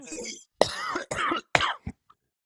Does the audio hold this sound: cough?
yes